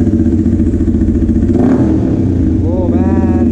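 A motorcycle freshly fitted with a new modified exhaust revs loudly and close by, a steady deep engine rumble with a sharper rev swell midway, then rising tones as the throttle climbs.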